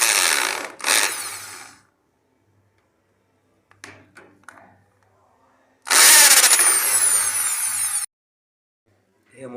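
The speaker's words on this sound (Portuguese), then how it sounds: "Como eu não tenho essa chave de impacto, eu vou usar a minha parafusadeira." A cordless drill set to hammer mode and turning counterclockwise loosens bolts on a Dafra Zig 50 scooter. It makes two loud bursts of whirring and rattling, with quiet clicks and handling noise between them.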